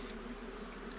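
A steady, close hum of many honey bees buzzing at an opened hive, continuous and fairly even throughout with no voices.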